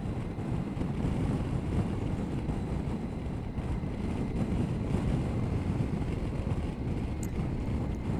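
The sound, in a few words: wind buffeting a motorcycle helmet visor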